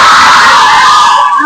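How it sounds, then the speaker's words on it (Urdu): A crowd at an Islamic religious gathering in Karim Town, Multan, roars a loud unison shout in answer to a slogan, a sustained high-pitched collective yell that tapers slightly at the end. "ان کے آنے سے پہلے آپ ایک زوردار نعرے کا جواب دیجیے"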